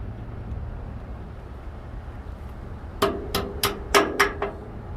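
Metal taps on a cotter pin during maintenance on a Freightliner truck: about six sharp hammer strikes arrive in a quick, uneven run after a few seconds of low background hum.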